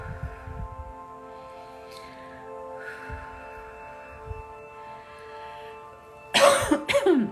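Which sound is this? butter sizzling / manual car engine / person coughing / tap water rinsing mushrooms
person coughing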